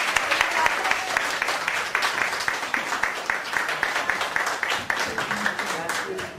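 A group on an Italian parish youth holiday claps together in thanks, steady dense applause with some rhythmic emphasis, fairly close and lasting throughout, with voices faintly underneath.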